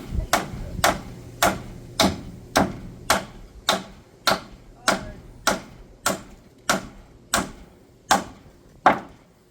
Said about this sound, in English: Smaller hammer might help her.